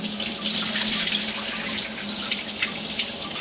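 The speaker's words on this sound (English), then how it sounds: "you have to rinse out the rice." Tap water runs steadily over rice being rinsed in a home kitchen, a close, continuous splashing flow with no voices.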